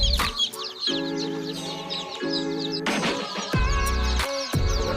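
A batch of about 400 chicks, with busy clucking and squawking nearby, calls overlapping one another, with some brief higher peeps mixed in.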